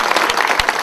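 Audience applause at a church gathering, dense clapping from a crowd filling the short moment, fairly loud and close.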